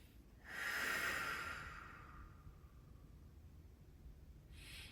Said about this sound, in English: All the while we're breathing deeply.